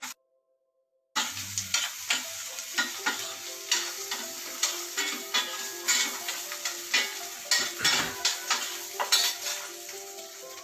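Curry cooking in a pan in a home kitchen, with steady frying and sizzling as a spoon repeatedly stirs and scrapes against the metal in a regular, close rhythm. No voices.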